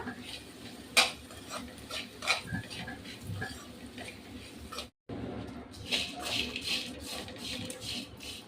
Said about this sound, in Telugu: సౌండ్ చూడండి ఎలా వస్తుందో చాలా క్రిస్పీగా వేగిందండి